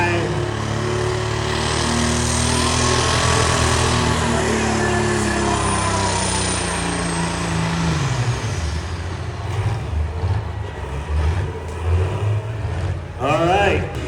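An International 1066 tractor at a tractor pull in Sandy Downs, Idaho, roars loudly as its engine revs and strains, the pitch shifting and then dropping, while voices and crowd noise are heard in the background.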